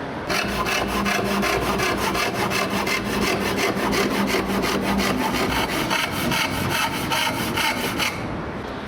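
Rapid, steady back-and-forth strokes of a handsaw cutting rough, unplaned lumber during wood preparation, close and continuous for about eight seconds, then stopping.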